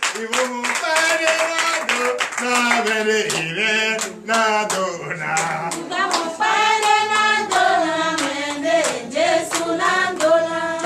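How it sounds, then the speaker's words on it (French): A church congregation at a night deliverance service in Comè, Benin claps hands in rhythm, sharp repeated claps mixed with loud singing and shouting voices. "Donnez l'acclamation à notre Seigneur Jésus."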